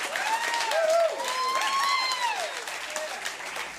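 Audience applauding and cheering for a bluegrass band at a live Farm and Fun Time show, dense sustained clapping with whoops and shouts rising above it, a large crowd heard close and continuous.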